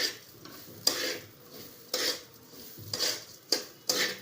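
Rice being roasted in a pot for sweet kheer, stirred with a spoon that scrapes and clanks against the pot in repeated strokes roughly every second, over a faint dry rustle.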